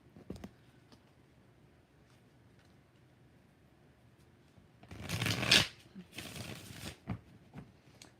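Tarot cards shuffled during a live reading, two brisk riffling bursts in the middle after quieter handling, with a voice audible at times.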